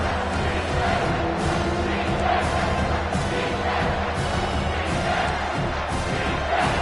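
A stadium crowd in an NCAA college football video game roars steadily on a big third down, loud and sustained with swelling surges.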